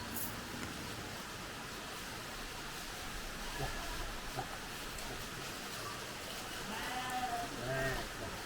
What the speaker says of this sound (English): There were hundreds of mountain goats and sheep suddenly appear.